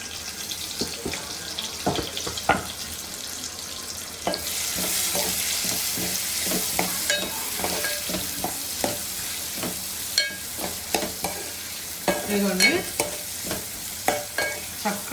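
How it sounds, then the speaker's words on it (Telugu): Onions and green chilies frying in a pan for a fish and egg curry, a steady close sizzle with repeated stirring and scraping strokes, plus some running-water and sink noise in the background. "నేనైతే ఉల్లిపాయ పచ్చిమిర్చి అయితే వేసేసుకుంటున్నాను ఇందులో"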